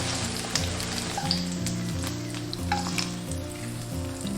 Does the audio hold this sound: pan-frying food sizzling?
yes